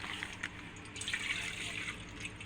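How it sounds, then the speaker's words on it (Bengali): Milk pours from a packet into a cooking pot, a steady soft liquid splash and trickle heard up close with no talk. "পাত্রের মধ্যে দুধটা ঢেলে দিচ্ছি।"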